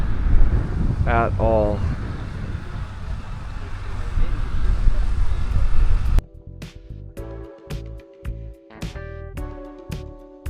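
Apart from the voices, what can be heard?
strong wind blowing on the camera microphone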